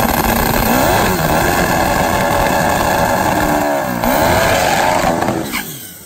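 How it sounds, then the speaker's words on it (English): A Hayabusa drag motorcycle with electronic fuel injection runs loud and close, its engine revving up and down in several rising sweeps before dropping off at the end. No one speaks. "If you think it sounds like a pro street bike, you are correct."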